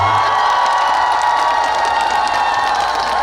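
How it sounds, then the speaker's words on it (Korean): A large outdoor crowd at the Okjeongho cherry blossom festival in Imsil applauds and cheers after a singer's performance, a loud, continuous wash of clapping and shouting with a sustained tone running underneath. "여러분께서 큰 박수 보내주셨으면 좋겠어요."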